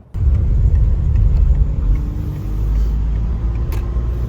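A car drives along a road through Bavarian countryside, heard from inside the cabin as a steady low engine and tyre rumble that starts abruptly and continues throughout without talk.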